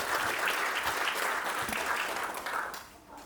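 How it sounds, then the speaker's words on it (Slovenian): An audience at a gala event claps for Dominik Kozarič, a dense and steady applause that fades slightly toward the end. "Še en aplavz, prosim, za Dominika Kozariča in igral je pošteno."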